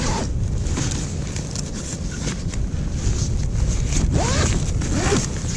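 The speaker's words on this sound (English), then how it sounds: "And you just go ahead and zip up your side." The side zipper of an Ecotat Freedom Shelter one-man tent is drawn closed in a few quick, rasping pulls, close and fairly loud over outdoor wind noise.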